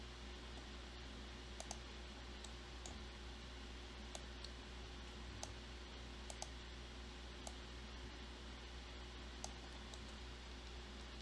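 Computer mouse clicks while working in Fusion 360 modeling software: a scattering of faint, sharp single clicks at irregular intervals over a steady background hiss.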